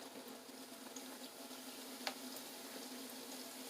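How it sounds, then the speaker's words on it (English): Mandazi dough fries in hot oil, a soft, steady, fine-grained sizzle at low level with one small pop partway through and no talk. "So gently drop your mandazis into the hot oil"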